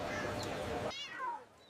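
A cat meows once, short and fairly clear, right after a burst of lively talk, in an animated market setting.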